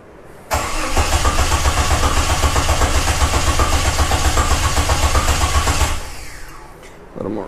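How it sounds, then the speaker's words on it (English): A Jeep Wrangler YJ engine cranks with a rapid, even chugging of the starter for about five seconds, then catches and fades into a rough idle, close and loud. "Now let's see if I can actually get it started."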